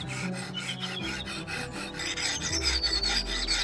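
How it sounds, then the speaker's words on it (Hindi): A steel file rasps across the top edge of an old German cleaver being restored, in steady back-and-forth strokes, close and clear with no talking. "अब एक स्टील की रेती से हमने गणासे के ऊपरी हिस्से को साफ किया।"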